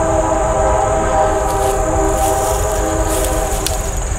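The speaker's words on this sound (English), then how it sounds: "A lot of train activity in this area today." Train rolling close by in an industrial area, a loud steady rumble with sustained horn-like tones and occasional metallic squeals, continuous throughout.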